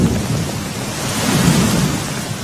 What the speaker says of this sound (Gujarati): ગિરનાર પર્વત પર ધોધમાર વરસાદ વરસી રહ્યો છે।